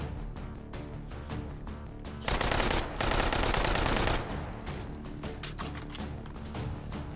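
An MP40 submachine gun fires in a World War-style video game, sounding as rapid automatic bursts with a denser, louder stretch of continuous fire in the middle and steady rattling before and after.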